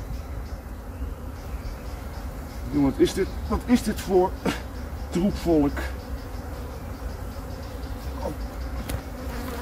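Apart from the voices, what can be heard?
swarm of aggressive honey bees buzzing at a hive box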